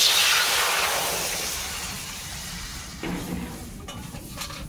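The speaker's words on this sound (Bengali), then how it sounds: "এবার কড়ার মধ্যে জল দিয়ে দিচ্ছি" Water poured into a hot kadai (wok) starts with a loud rushing hiss that slowly fades, followed by a few light metallic clinks and scrapes near the end.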